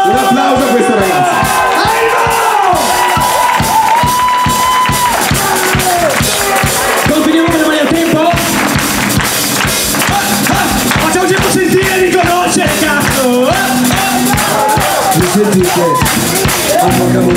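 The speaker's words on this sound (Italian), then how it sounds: "Bravo Dario! Un applauso a questo ragazzo." Live concert audience cheering, whooping and clapping for a performer named Dario, a dense, continuous crowd roar at steady loudness with music and babble mixed in throughout.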